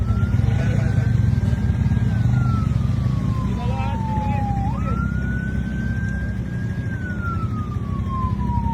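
A wailing emergency siren sweeps up and down in pitch over steady traffic rumble, loud and continuous throughout.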